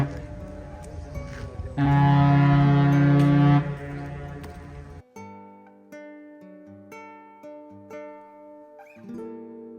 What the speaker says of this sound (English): And here comes the ferry.